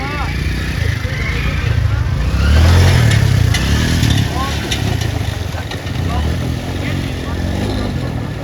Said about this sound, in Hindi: और ये भाई की मोटरसाइकिल फंस गई सामने